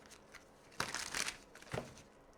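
Tarot cards shuffled and handled by hand in a quiet room, giving two short bursts of crisp crinkling and rustling, the first longer and the second brief.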